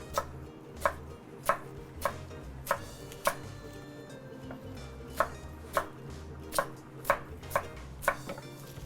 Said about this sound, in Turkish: Bu burada ısınırken biz de soğanımızı doğrayacağız.